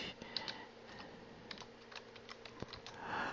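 Someone types on a computer keyboard in short irregular bursts of faint, close clicking keystrokes, alone without any talking.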